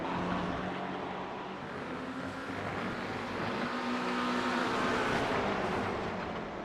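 Race cars including a Porsche lapping Monza in a sim racing game, a continuous engine drone that swells and fades as cars run together, with no talk over it.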